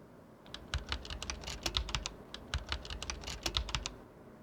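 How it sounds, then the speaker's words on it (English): A password is typed on a computer keyboard in a Linux terminal, a quiet, close run of quick, even keystrokes with no voices. "Then we'll have to type in our password."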